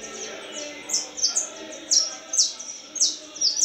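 A canary sings inside a cage, a series of bright, evenly spaced chirps repeating about twice a second, close and clear over faint background noise.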